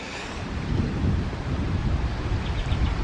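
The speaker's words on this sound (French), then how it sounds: "il y a du vent, beaucoup de vent" Strong wind buffets the microphone in a continuous low roar with gusty swells, outdoors over a permaculture vegetable garden.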